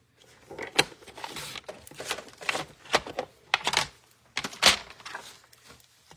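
Cardstock for a card base is cut on a paper trimmer, with a series of close, irregular scraping, sliding and clunking sounds, several sharp clacks scattered across a few seconds.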